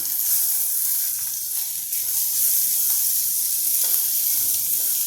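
Frozen peas being stirred into a sizzling pan for a matar pocket filling, a steady bright hiss of frying with faint scraping of the spoon beneath it.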